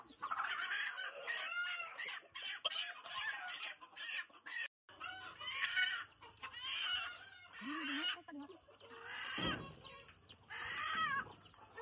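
Chickens on a poultry farm cluck and squawk in busy, overlapping bursts, fairly quiet overall, with a short gap of silence partway through.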